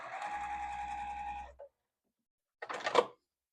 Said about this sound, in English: Put them right sides together and just sew straight down, 1/4 inch seam